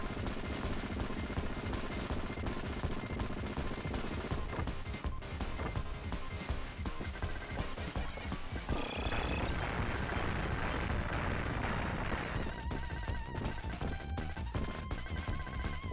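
Homing missiles fire in Contra Hard Corps as a dense, rapid stream of shots and blasts. The game's music plays continuously beneath the fire.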